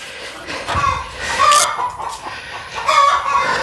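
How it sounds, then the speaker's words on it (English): Chickens near a horse barn clucking and squawking in an agitated flurry, with repeated loud, harsh calls rising and falling over a few seconds, fairly close. "I don't know what's going on with the chickens. They are having a fit."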